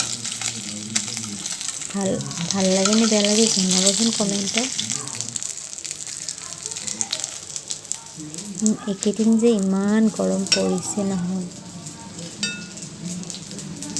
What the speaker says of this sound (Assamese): মাছখিনি ৰঙচুৱাকৈ ভাজি লৈছোঁ মই